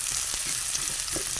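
Garlic and onion fry in a pan with a steady, close, bright sizzle, broken by a few soft clicks and scrapes from stirring.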